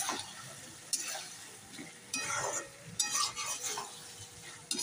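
Pumpkin curry is stirred and sautéed in a pan, with soft sizzling and a few scraping, clattering stirs that come in short bursts at low volume.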